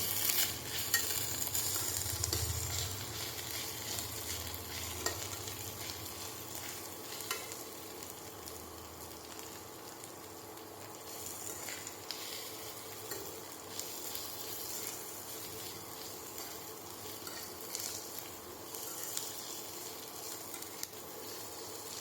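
Ginger garlic paste frying in a pan for an egg fry, a soft steady sizzle with occasional stirring scrapes, fairly quiet and continuous with no talking.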